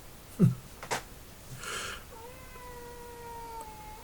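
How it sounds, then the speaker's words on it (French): A cat at a window makes a few short chirping sounds and then a drawn-out meow, close and clear against a quiet room. "si vous avez entendu des petits miaulements de chat derrière moi"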